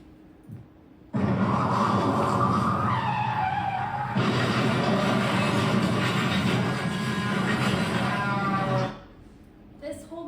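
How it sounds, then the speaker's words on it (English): Car crash sound effect with screeching, skidding tires: a loud, sustained skid that cuts in suddenly, runs for about eight seconds and stops abruptly. "you suddenly experience a car crash"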